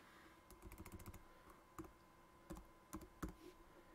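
Typing on a computer keyboard while filling in a MySQL user form, quick clusters of close, quiet key clicks with short pauses between bursts.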